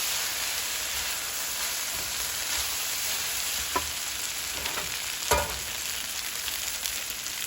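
Rice frying and being stirred in a pan with chicken and shrimp, producing a continuous loud sizzle with a few sharp scrapes of the spoon against the pan.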